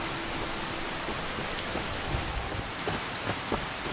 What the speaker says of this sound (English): Damn this rain.